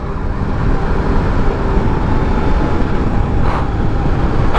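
A TVS Apache RR310 motorcycle with its stock exhaust cruising fast on a highway, a dense, steady roar of engine and rushing wind that stays loud and unbroken throughout.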